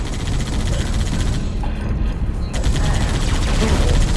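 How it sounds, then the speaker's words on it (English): Sustained rapid gunfire from the video game Halo: Reach, a dense loud barrage of automatic shots with booming bursts running the whole time under game sound, with no pauses. "I'm under fire!"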